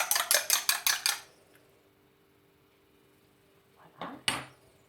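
A utensil beats an egg in a bowl while making Tunisian ghraïba dough, giving a fast run of six sharp clinks, then a pause before a couple of louder knocks against the bowl.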